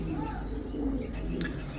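Red checker racing pigeons coo softly in a loft, with a low, murmuring call close by over quiet background hum.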